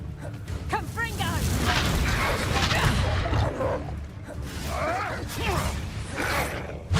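A Confringo fire spell blasts in Hogwarts Legacy, with bursting pops, crackles and rumbling impacts in a dense, noisy stretch of combat as a voice talks over the action.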